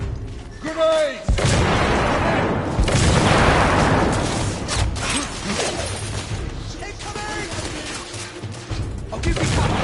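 Grenade blasts and rapid gunfire in The Order 1886 roar in a loud, dense barrage of booms and crackling shots, with shouted voices over the combat.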